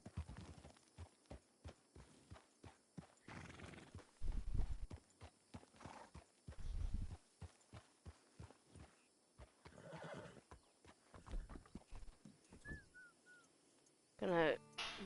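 Roach the horse in Red Dead walks with sharp hoof clops and snorts, punctuated by neighs, while a person talks intermittently over the game sounds.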